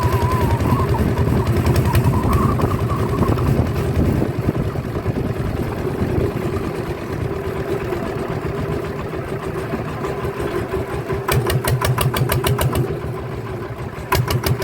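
A vehicle with an ET95 engine bored up to 155 runs close by on a casual drive near home, giving a steady mid-pitched rumble with shifting revs and a rapid rattling chatter near the end, with no voices.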